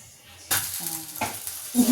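A dosa fries in a pan, with a burst of sizzle and stirring scrapes starting partway in and continuing in short uneven surges, close and moderately loud.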